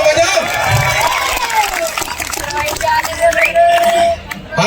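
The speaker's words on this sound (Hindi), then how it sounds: "तालियां तो बजाओ।" Mushaira audience in Pathri breaks into loud crowd noise, with applause and cheering filling the clip at a steady level while voices mingle in the hubbub.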